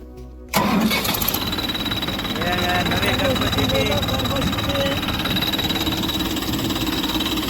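A tractor engine, with its fan not turning, starts abruptly and keeps running at a steady, loud, throbbing idle with a high whine, while voices talk over it.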